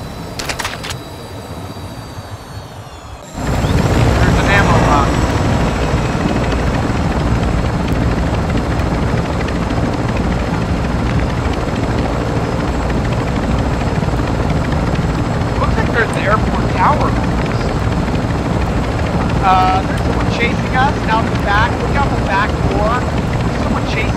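A helicopter in a video game thumps loudly and steadily with a dense rotor drone for most of the stretch, while people talk intermittently over it.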